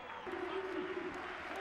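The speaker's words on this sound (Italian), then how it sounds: "applausi per Simone Farina, entra in campo nel finale" A stadium crowd applauds as substitute Simone Farina comes on late in a Gubbio versus Grosseto football match, a brief steady wash of clapping with a faint voice over it.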